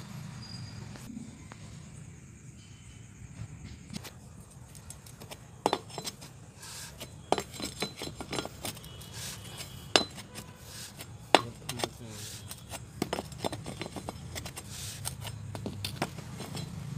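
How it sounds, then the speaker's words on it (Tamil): Metallic clicks and clinks of a 36 ring spanner working loose the diesel tank motor cup on a Mahindra Bolero Maxi Truck Plus, irregular sharp ticks over a low steady hum. "ரிங்ஸ் போட்டு நான் கழட்டுறேன்."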